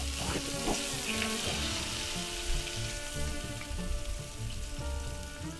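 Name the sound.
venison steaks sizzling with butter on a fire log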